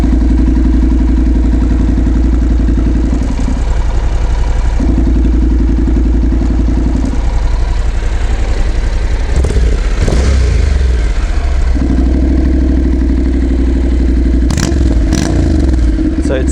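A Honda CTX700 motorcycle with the exhaust baffle removed idles loudly nearby, its deep throbbing note rising in several revs, with clattering handling noises in the middle.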